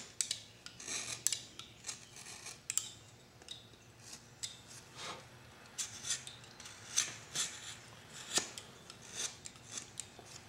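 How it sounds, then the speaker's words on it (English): Dirt left by a clamp being cut away from a wooden workpiece: a close series of short, irregular scraping and snipping cuts, fairly quiet, with no talking. "Same time I'll cut away all that dirt left by the clamp."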